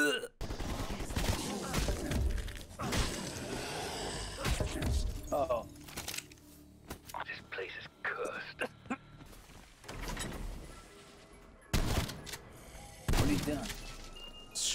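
Bursts of gunfire from zombie shooting in Call of Duty Black Ops, with rapid volleys and single shots scattered across the scene amid game effects and clatter, under occasional talk.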